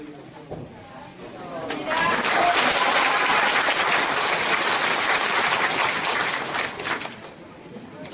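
Members at a Korean redevelopment association general meeting break into applause that swells to a loud, dense roar for several seconds before tapering, with murmured chatter underneath.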